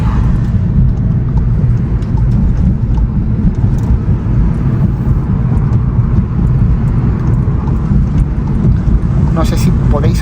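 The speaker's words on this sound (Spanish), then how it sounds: "No sé si podéis apreciar todo el ruido que hace el asfalto" Road noise from rough asphalt heard inside a Volkswagen Golf GTI mk7 Performance with 300 hp: a constant loud low-frequency roar and tire rumble fills the cabin throughout, steady and unbroken.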